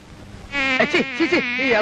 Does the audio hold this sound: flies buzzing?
yes